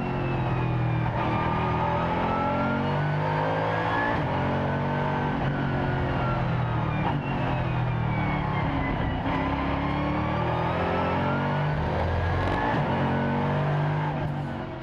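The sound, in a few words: onboard engine of Mercedes SLS AMG GT3 race car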